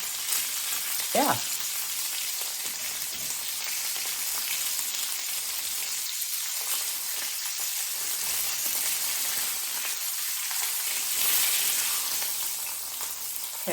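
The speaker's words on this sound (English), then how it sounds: "I'm going to sear it on the sides." Meat searing in a hot pan in a home kitchen, a steady hiss and crackle of frying throughout, with a brief spoken word over it.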